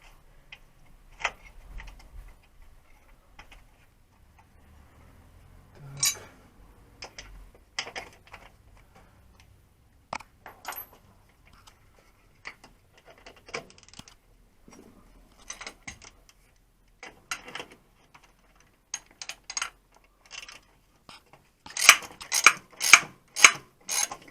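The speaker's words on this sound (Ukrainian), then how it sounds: "встановлюємо шайбу і гайку. Так, затягуємо це все." A washer and nut are tightened on the rear lower control arm of a Mercedes during a bushing replacement: sparse, faint metallic ticks and clicks, then a quick, louder run of ratcheting clicks near the end.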